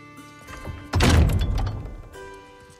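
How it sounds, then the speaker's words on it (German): A single heavy door slams shut with a booming thud that rings out briefly over quiet background music in the video game God of War Ragnarök. "Knallt dir die Tür, ey."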